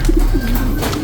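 Racing pigeon cooing close by, a short series of soft low throaty coos over faint background noise.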